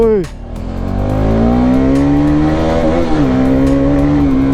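A motorcycle engine revs up and holds a loud, steady roar close by.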